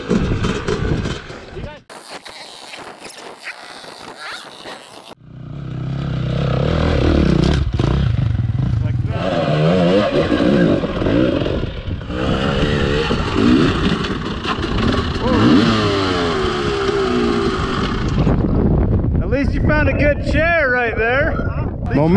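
A 230 dirt bike engine revs and roars loudly and steadily while being ridden over sand at Sand Hollow and Warner Valley, with rattling and scraping under the engine noise.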